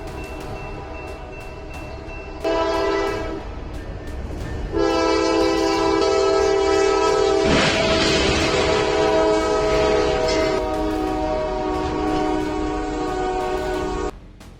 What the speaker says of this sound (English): A tractor trailer got stuck on the tracks as a speeding train rushed toward it.